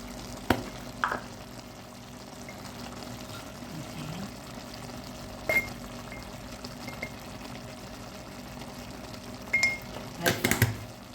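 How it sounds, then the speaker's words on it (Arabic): Beef neck with onions and spices frying in a pan, a steady low sizzle throughout with a few clinks and stirring knocks, loudest near the end. "نزيدو نخلوه يتقلى باش يشرب مليح هذوك التوابل والملح"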